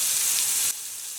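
Eggplant fries in oil in a pan on a low gas flame, giving a steady hiss that drops suddenly to a softer sizzle partway through.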